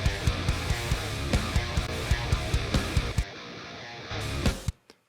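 A looped, heavily distorted metal guitar take repeats with a crossfade joining the overlapping audio tracks, steady palm-muted chugs pulsing evenly and loudly, then thinning out and stopping abruptly near the end.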